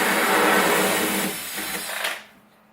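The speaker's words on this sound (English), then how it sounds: "you start your drill in going the way it normally is supposed to go" A power drill whirs loudly as it bores a hole, running hard and then winding down near the end, with no talking.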